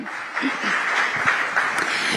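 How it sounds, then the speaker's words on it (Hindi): Audience applause for Shivraj Singh Chouhan on a TV chaupal stage: steady, moderately loud clapping sustained throughout, with some voices mixed in. "शिवराज सिंह चौहान जी के लिए जोरदार तालियां।"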